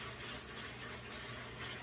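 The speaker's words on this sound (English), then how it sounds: "Now let that rice run under that cold water." Cold tap water runs steadily over white rice being rinsed, a soft, even gush with no pauses.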